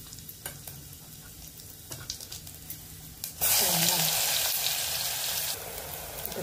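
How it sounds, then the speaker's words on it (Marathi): Mustard seeds and asafoetida tempering in hot oil for a Kolhapuri misal. A few quiet clinks come first, then a sudden, loud, close sizzle erupts and continues steadily. "आपण आता मोहरी तडका बसला पाहिजे चांगला खमंग."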